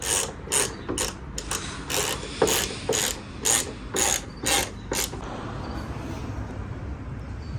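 A hand ratchet clicks as it tightens a carbon fiber M4 GTS-style hood on a BMW E92 335i, about a dozen rapid clicking strokes up close, then quiet background hiss with no talk.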